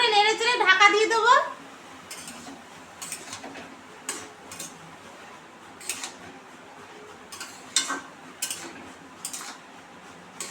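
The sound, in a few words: stirring bottle gourd in a cooking pot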